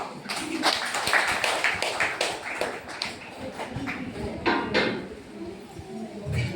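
Parents clapping at a school parents' meeting for a social audit, a steady run of close, sharp claps from a small group that rises and falls over several seconds.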